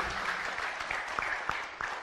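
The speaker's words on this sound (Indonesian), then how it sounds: "Tepuk tangan loh, ya." A crowd claps steadily for a couple of seconds, a dense patter of hands with a few sharper individual claps standing out.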